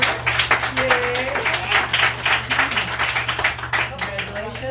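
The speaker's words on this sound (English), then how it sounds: "We want to give you a round of applause" A crowd applauds and cheers steadily for newly promoted senior consultants at a company event, dense clapping running throughout alongside voices.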